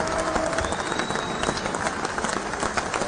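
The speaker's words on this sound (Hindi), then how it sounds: "कर लीजिए तालियों की गड़गड़ाहट के भी" Studio audience applause in a television news discussion studio, a dense, steady burst of clapping heard close and loud for a few seconds without pause.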